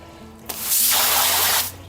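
A garden hose sprays water over a small pond pump, a sudden loud hissing gush that starts abruptly, holds steady, then cuts off.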